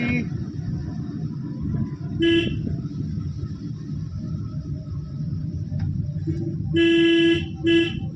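A car horn sounds during a driving lesson on the road, with a short toot, then a longer blast and a quick follow-up toot, loud over steady engine and road noise while an instructor talks.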